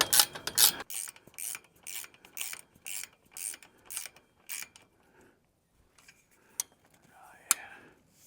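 A ratchet snugs a bolt into a chain link fence corner bracket on a DIY carport lean-to, with rapid repeated clicking strokes up close that slow and fade into a few scattered clicks.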